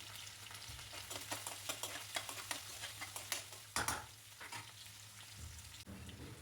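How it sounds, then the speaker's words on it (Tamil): Onion, garlic, curry leaves and green chilli sautéing in hot oil, a steady sizzle with rhythmic scraping stirs throughout and one sharper clatter near the middle. "கூடவே வெங்காயம், பூண்டு சேர்த்து நல்லா வதக்கி விட்டுருங்க."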